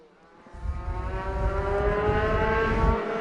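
Race cars speed through Devil's Elbow on the opening lap of a circuit race, their engine note swelling from faint to a loud, sustained, rising whine that holds steady as the pack passes close by.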